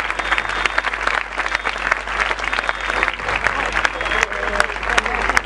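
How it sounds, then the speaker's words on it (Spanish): Audience at a talk breaking into steady applause, dense, continuous clapping that fills the room for several seconds. "Primero quiero pedir otro aplauso enorme"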